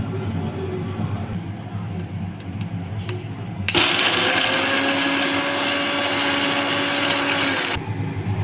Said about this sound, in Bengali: এবার এটা মিক্সিতে পিষে নেব।